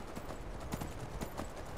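Horse hooves galloping in the video game Skyrim, a steady rapid clip-clop rhythm over a dense, noisy game soundscape, with no talk.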